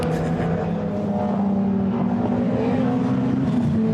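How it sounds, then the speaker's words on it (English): A BMW M3 Group A touring car, driven by Emanuele Pirro, passes a Goodwood commentary box with a steady, loud engine drone. Harmonic tones hold level and shift slightly in pitch as it goes by, and no one speaks. "just looking out of your commentary box window, an M3 goes past"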